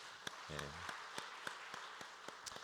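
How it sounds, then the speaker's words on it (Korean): Congregation members at a Korean church's dawn Holy Week prayer service clap in a steady, evenly spaced rhythm, fairly quiet, with a brief voice murmuring near the start. "우리 박수 한번 하겠습니다"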